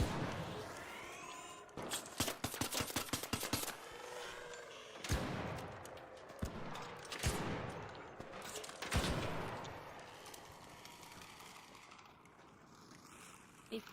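Bursts of gunfire in the video game Arc Raiders, aimed at a hostile arc machine: rapid repeated shots in clusters with several heavier single blasts, loud against a busy game background, with a voice talking in places.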